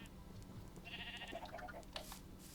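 A sheep bleats in the Minecraft video game, a quiet wavering cry lasting about a second, faint and distant over low background ambience.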